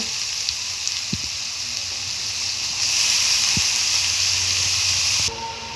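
Grated bottle gourd hits hot oil in a frying pan, setting off a loud, steady sizzle that swells midway and cuts back near the end, with a couple of soft knocks of utensil on pan and no talk.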